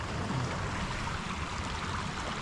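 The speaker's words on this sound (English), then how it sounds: "Not often there's two creeks right here." Mountain forest creek running full with seasonal water, a steady, fairly faint rush and trickle that continues evenly throughout with no voices.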